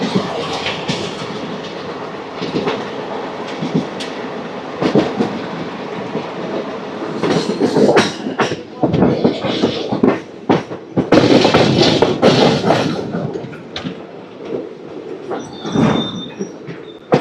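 The 17479 Puri Tirupati Express runs along the track with continuous rolling rumble, rhythmic clickety-clack of wheels over rail joints and occasional sharp squeals, growing louder and busier toward the middle.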